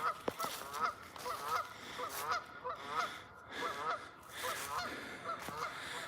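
Geese honking repeatedly out over a lake in fall, a steady stream of overlapping calls carrying across open water at moderate distance, with no voices.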